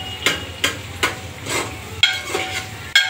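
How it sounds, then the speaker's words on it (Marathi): Onions stirred and fried in a pan over full gas flame for a home-style chicken biryani, with a steady sizzle broken by repeated scraping strokes of a spoon against the pan, close and fairly loud, with no talk. "आता पप्पा हलवायला लागल्यात कांदा"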